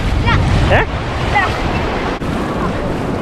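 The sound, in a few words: ocean waves at a Cape Town beach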